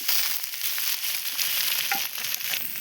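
Potato pieces fry in oil in a wok with a bright, continuous sizzle and a few faint stirring clicks, close and steady with no voices.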